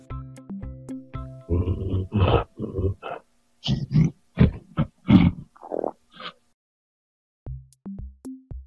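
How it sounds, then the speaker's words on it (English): Deep grunting animal calls and throaty snorts in several bursts, loud and close, with a pause before a few lower rumbling grunts at the end. "Rhinoceros."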